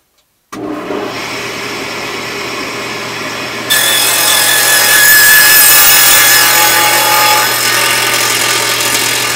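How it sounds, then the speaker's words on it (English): A power saw with its blade set for a 1-inch depth cuts a rabbet in scrap wood: after a moment of silence the motor spins up, then the loud, close cutting noise grows harsher as the blade bites into the wood and carries on steadily to the end. "Set my saw blade for 1 inch. And now cut the rabbet in these."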